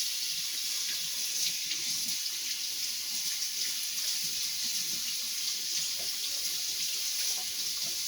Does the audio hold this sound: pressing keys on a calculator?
no